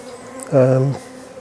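Honey bees in an open hive give a loud, close buzz that swells for about half a second over a quieter background hum, with no talking.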